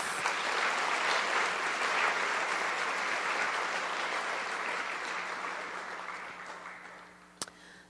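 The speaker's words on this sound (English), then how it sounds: "Let's give them a round of applause." An audience at a Holocaust art and writing contest ceremony claps in a dense, sustained round of applause that slowly tapers off, ending with one sharp click.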